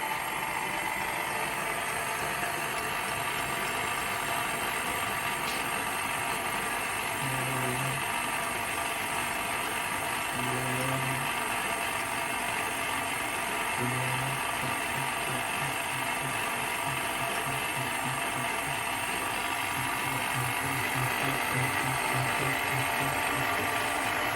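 A stand mixer kneads everyday bread dough, a continuous loud motor whir with a rhythmic mechanical knocking as the hook turns, running steadily throughout with no voices.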